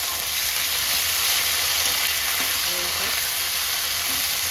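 Ginger paste frying in a pan, a loud, dense, continuous sizzle with a steady hiss, close up and heard alone with no voices.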